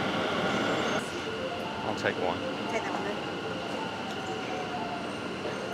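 An express train rumbles steadily through a station in Taiwan with a brief metallic squeal, while voices talk over the constant mechanical noise.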